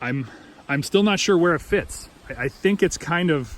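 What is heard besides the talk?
None of the usual background noises is heard.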